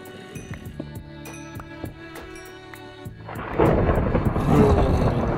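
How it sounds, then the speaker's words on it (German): Thunder rolls through a Minecraft game world, starting with game sounds and then swelling into a loud, sustained rumble that lasts to the end with no voices. "Jetzt gewittert's."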